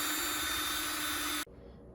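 A high-pitched power drill whines steadily for about a second and a half, then cuts off abruptly, leaving a faint hum.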